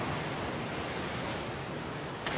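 Rushing river water in the survival game The Flame in the Flood makes a steady, dense, full roar that fills the whole stretch without letup, with no voices over it.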